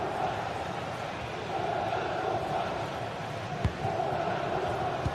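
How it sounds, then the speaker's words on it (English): A big football stadium crowd in a video game sends up a constant, dense roar of murmuring and chanting, with one sharp thud partway through. "just listen to this crowd. They want a bit more"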